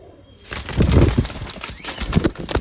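Red pigeons shuffling and flapping close by, bursts of wingbeats and scuffling with soft cooing notes, busy and uneven in loudness, with no talking.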